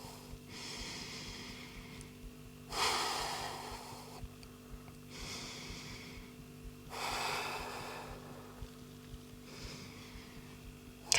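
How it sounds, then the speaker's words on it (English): Slow deep breathing held during a yoga pose, about four audible inhale-exhale cycles in a steady rhythm, close but faint over a low background hum. "Let's take 3 deep breaths here."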